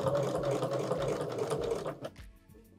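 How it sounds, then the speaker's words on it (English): Domestic sewing machine stitching a diamond grid quilting design, a loud steady whirring run that slows and stops near the end, close by. "you can see I'm sewing just to the side of my line so that my lines intersect through the diamonds."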